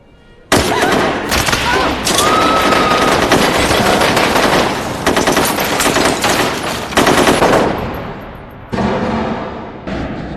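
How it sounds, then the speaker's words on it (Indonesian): Gunfire from a film scene of the terrorist attack on the Taj Mahal Hotel in Mumbai: loud, sustained automatic bursts and rapid shots that fill most of the clip and fade briefly near the end before resuming. "para teroris mengeluarkan senjata mereka dan langsung menembaki setiap orang yang berada di dalam hotel"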